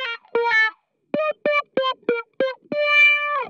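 A synth line run through a guitar-style effects chain with distortion and modulation, a string of short choppy notes ending in one long held note, loud and alone.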